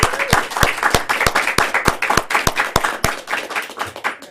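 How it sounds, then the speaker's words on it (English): An audience at a Toastmasters club meeting claps steadily and loudly, a dense round of applause with distinct, fairly regular hand claps throughout and no voices over it. "how about a round of applause for all the teachers and parents out there who have made this happen?"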